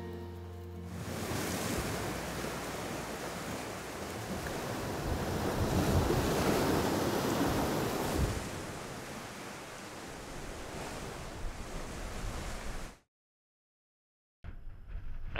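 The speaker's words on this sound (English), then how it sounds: "with only the sound of the waves for company" Waves breaking and washing against a rugged, rocky Scottish island coastline, a continuous roar with wind noise on the microphone, cutting out briefly near the end.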